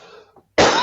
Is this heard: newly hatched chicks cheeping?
no